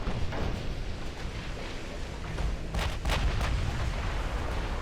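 Warship guns fire during an armored cruiser battle in the Ultimate Admiral Dreadnoughts video game, with faint, distant booms over a low rumbling background and a small cluster of sharper blasts partway through.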